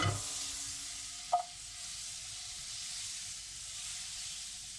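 A hot pan with olive oil and butter gives a faint, steady sizzle and hiss, with one brief clink partway through.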